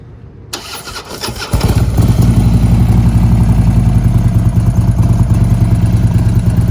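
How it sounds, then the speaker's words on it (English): A 2016 Harley-Davidson Street Glide Special engine with a Bassani exhaust cranks and fires up, then settles into a loud, deep, throaty idle with a steady rumbling pulse, close by. "It's really great sounding Bassani exhaust, especially with this engine build that's in it."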